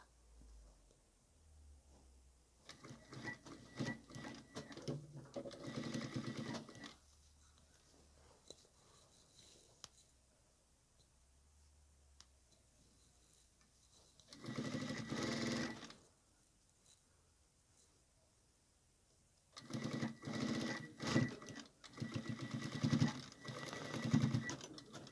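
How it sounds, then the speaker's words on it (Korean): Sewing machine stitching a pocket onto a lace-and-frill waist apron in three separate runs, each several seconds long, with quiet pauses between them. The stitching is near and moderately loud, and no one speaks. "이렇게 해서 주머니 박음질 됐습니다"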